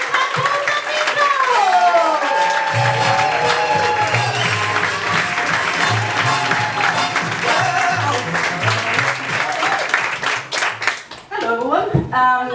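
Audience applause at a Bright Club comedy night in Glasgow, a dense wash of clapping that carries on steadily for several seconds beneath background music, tapering off near the end as a voice begins.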